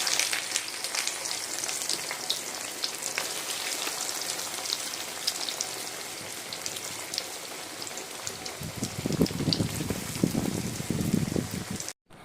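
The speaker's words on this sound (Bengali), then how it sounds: "এবার ফিশ ফ্রাইগুলো তেলে দিয়ে দেবো।" Fish fry pieces sizzling in reused dark oil in a home kitchen, a steady crackling hiss throughout that swells into louder, fuller bubbling near the end before cutting off.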